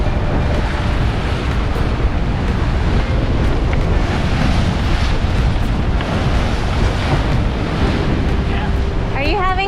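Sea waves and strong wind rush steadily around a fast-moving sailboat as water breaks over the bow, a loud, continuous roar up close with no speech.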